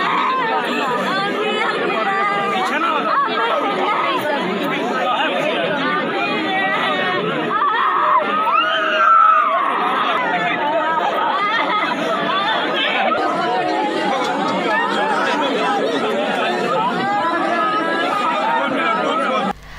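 A large crowd gathers at the cremation of a fallen soldier, making a dense, continuous hubbub of many overlapping voices that stays steady and loud throughout.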